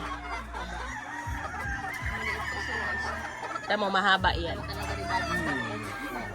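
Laying hens clucking and crowing nearby in a farm flock, with irregular calls scattered across the clip under a voice speaking.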